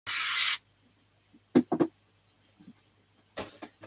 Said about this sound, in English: I do find that putting spray glue on it just makes life easier